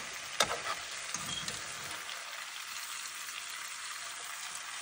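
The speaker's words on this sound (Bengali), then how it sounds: "এই দিকটাতে এখন মশলা দিয়ে ভালো করে এটা ভেজে নেব" Chicken fries with spices in a pan for a roast chicken dish, giving a soft steady sizzle with one sharp knock near the start and a brief scrape shortly after.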